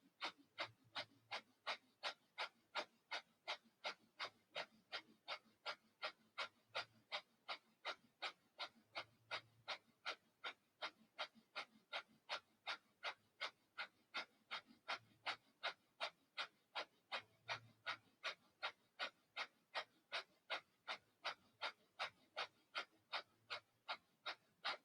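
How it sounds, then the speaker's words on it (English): Yoga fire breath, rapid forceful breathing: a long, even train of sharp, quick exhales, about two per second, close and steady for the whole stretch with no talking. "take a quarter breath in and begin a fire breath"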